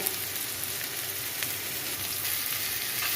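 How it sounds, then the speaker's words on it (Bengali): Onions frying with salt and turmeric in a pan give a steady, close sizzle that stays even and unbroken throughout, with no talking. "পেঁয়াজ লবণ সুন্দর করে ভাজব"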